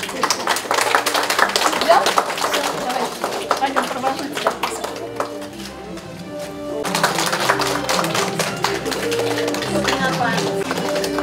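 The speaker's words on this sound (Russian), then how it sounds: "Аплодисменты." Applause at a district celebration for the Day of the Blind in 2018, a dense steady clatter of clapping from a crowd that fills the whole stretch, briefly thinning in the middle before swelling again.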